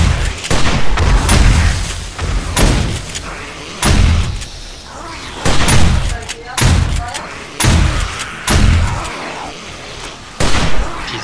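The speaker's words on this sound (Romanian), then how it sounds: "Am tras într-un exploziv de ăla." Explosives blow up in the zombie survival game 7 Days to Die during a horde night, a run of loud, heavy booms and thuds in quick succession mixed with a player talking.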